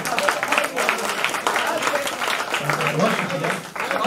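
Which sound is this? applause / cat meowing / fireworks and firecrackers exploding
applause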